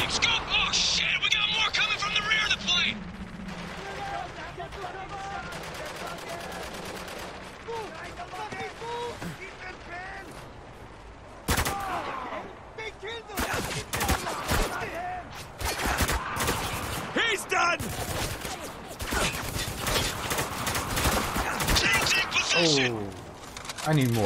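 Bursts of gunfire and heavy explosive blasts from the shooter Spec Ops: The Line, dense and loud through much of the stretch, with shouted voices mixed in among the shots.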